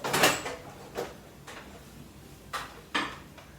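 A microwave door opens and a dish of bread pudding is taken out. Several distinct clunks and clicks follow at uneven intervals, with brief rattles of the dish against the interior.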